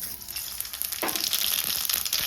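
Fenugreek seeds, cumin and mustard seeds tempering in hot oil in a kadai, a steady close sizzle and crackle with small spattering pops and no speech.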